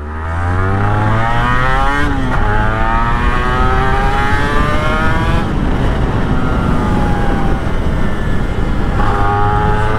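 A 1990s Honda NSR250R MC21 two-stroke motorcycle with a gull-arm swingarm revs hard and close, its rising and falling engine whine climbing through repeated throttle blips for the whole stretch, loud and continuous with no talk.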